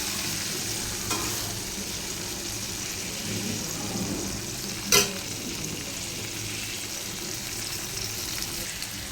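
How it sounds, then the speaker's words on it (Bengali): Raisins fry and get stirred in a pan with oil, a steady close sizzle running throughout and a sharp spoon scrape on the pan near the middle. "কিশমিশগুলো একটু ভাজা ভাজা করে নেবো"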